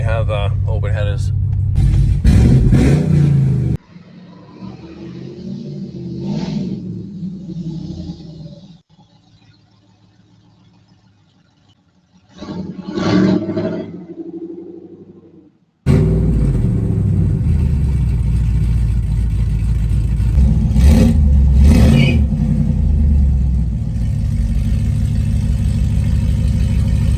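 A truck with open exhaust headers revs hard in loud, rumbling bursts, dropping to near silence between throttle blips before a long sustained roar, with someone talking over parts of it.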